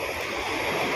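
Strong waves make a steady, loud rushing wash of water that fills the short moment without a break, with no voices over it.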